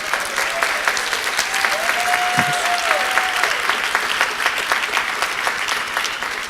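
An audience at a formal awards ceremony claps steadily for honorees' parents, a full, even roll of many hands with individual claps standing out, and a brief voice or tone briefly cutting through.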